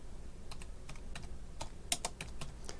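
Someone types a terminal command on a computer keyboard, a sparse, irregular series of crisp key clicks, close and clear over a low background hum, with no speech.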